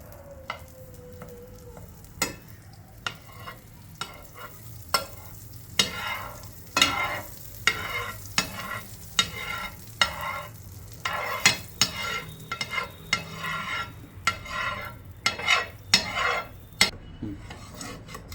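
Butter sizzling and being spread around a hot pan before toasting bread for a mushroom cheese toast, with repeated scraping and stirring strokes over a steady low sizzle, close and fairly loud, no talking.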